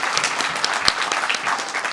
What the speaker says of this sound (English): A big round of applause for young Siddharth.